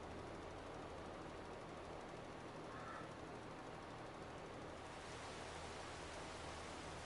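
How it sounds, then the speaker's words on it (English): Rain falling in the farming video game Farming Simulator 22, a steady, even hiss that stays constant throughout, with no one talking. "Oh, it's raining in the game."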